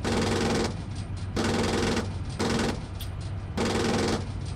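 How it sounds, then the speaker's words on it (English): Tank machine-gun fire in a military video game, arriving as four rapid bursts of rattling shots separated by short pauses, loud and close, with no talking. "Firing now."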